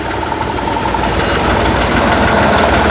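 A tractor engine runs steadily and loud at close range, a dense rumbling drone with vibration and no break across the whole stretch.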